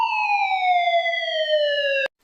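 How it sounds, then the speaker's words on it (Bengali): A cartoon ambulance siren plays as a sound effect in an animated story, one loud, pure steady tone that slides slowly downward for about two seconds before cutting off abruptly. "একটু পরেই সেখানে অ্যাম্বুলেন্স চলে আসে"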